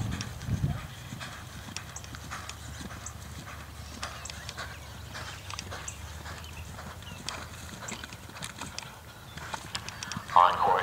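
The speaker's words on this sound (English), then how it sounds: "On course now is horse number 68, the Footman, ridden by Diane Begeman." Horse hooves clip-clopping at a horse trials event, a steady run of soft distant hoofbeats over open-air background noise, with faint voices around and a louder knock near the end.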